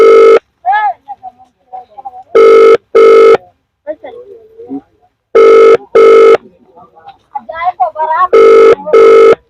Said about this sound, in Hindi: रिंग जा रहा है, प्रधान जी द्वारा फोन अटेंड नहीं किया गया है।